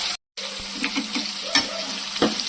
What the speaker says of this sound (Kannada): ಎಣ್ಣೆದಲ್ಲೇ ನಾನು ಫುಲ್ ಫ್ರೈ ಮಾಡಿದ್ದೀನಿ